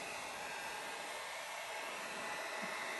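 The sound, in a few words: heat gun blowing hot air on battery clamp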